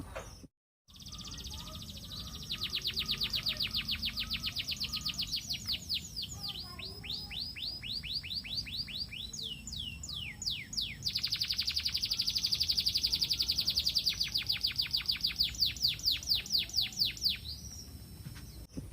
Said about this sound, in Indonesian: Kenari ini udah gacor,